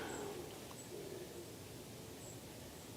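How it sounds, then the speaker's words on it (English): Pigeons coo outside, heard as soft, faint low hoots drifting in at a distance over a steady hiss of background noise, with no one talking. "That's pigeons outside."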